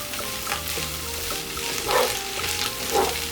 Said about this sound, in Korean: 모든 재료가 적당히 익었으면 치킨 스톡이나 굴소스 한 스푼 넣고 소금과 후추로 간을 해주고 섞어서 볶아주세요.